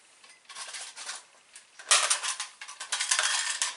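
A large metal nut and a tube of glue are handled, giving quiet metallic clinks and scrapes in irregular bursts that grow busier and louder toward the end.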